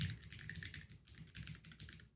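Password typed on a keyboard, a run of light rapid key clicks, close but quiet, steady throughout.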